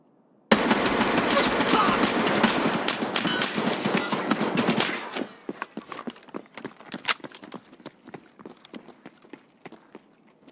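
Escape From Tarkov gunfire opens with a dense, loud burst of rapid automatic shots lasting about five seconds, then gives way to scattered sharper single shots and distant cracks.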